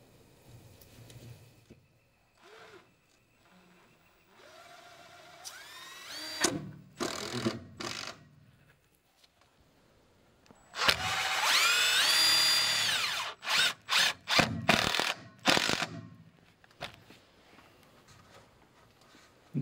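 A power drill drives screws during a geothermal greenhouse build near spray foam insulation, whining in several short bursts and one longer run, with quiet pauses between; no talking.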